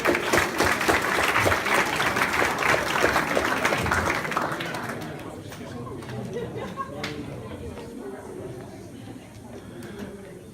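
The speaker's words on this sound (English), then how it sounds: "a nice round of applause" Audience applause at a summer graduation ceremony, loud dense clapping with cheering voices that gradually thins and fades to scattered claps and murmuring.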